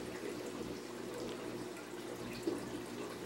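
Aquarium filtration on a 180-gallon show tank, an FX6 canister filter and a wet/dry sump, gives off a steady wash of running, trickling water, with one brief splash partway through.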